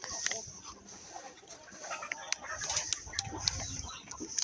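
Hens cluck softly on a poultry farm, faint scattered calls over a hissy, insect-laden background with a few sharp clicks, fairly distant and low in level.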